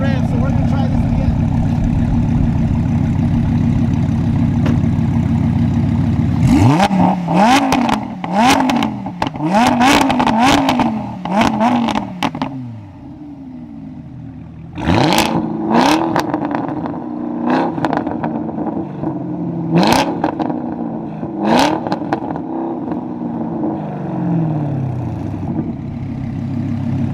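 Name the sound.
Chevy Camaro ZL1 1LE and Lamborghini Huracan engines revving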